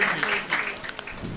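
A church congregation claps and applauds loudly for a woman brought forward during a testimony, a dense close burst of handclaps with a voice speaking over it.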